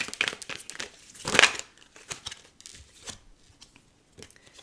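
A deck of tarot cards is shuffled up close, with crisp irregular riffles and papery crinkles and one louder flurry near the start, heard alone without talk.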